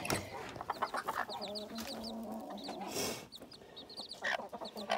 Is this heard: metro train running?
no